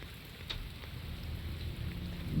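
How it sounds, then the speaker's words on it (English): Steady rain pours down in the Shadows of Doubt video game, a constant hiss of falling water on surfaces with a faint low rumble beneath, heard alone without speech. "it is cold and rainy out there"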